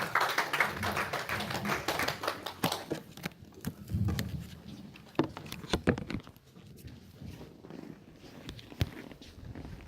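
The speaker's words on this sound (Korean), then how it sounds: "박수로 하나님께 영광 돌리겠습니다." A church congregation at a Korean worship meeting claps, a dense burst of applause that thins into scattered, irregular claps, with a faint voice here and there.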